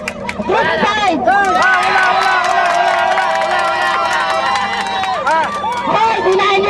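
A group of people shouting and cheering together in a loud, sustained burst of overlapping voices that rises and falls for several seconds.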